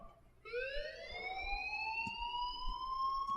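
A school alarm in Life Is Strange wails continuously, a rising tonal siren that starts abruptly and holds steady and loud for several seconds, with no talk over it.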